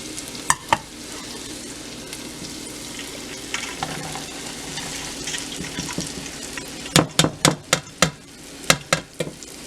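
Dry okra sizzling in a hot pan, a steady low fry broken by sharp scraping clicks of a utensil stirring, several quick strokes in a row toward the end.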